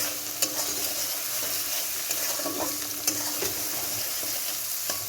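An egg sizzles and crackles in a hot pan while being stirred, with a continuous bright frying hiss broken by occasional sharp scrape and tap sounds, close up with no talking.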